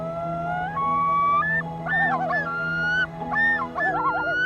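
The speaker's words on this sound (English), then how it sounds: "the calling of loons is so pervasive" Common loons calling in loon country, long rising wails and wavering tremolo calls overlapping one another, clear and sustained with a faint low hum underneath.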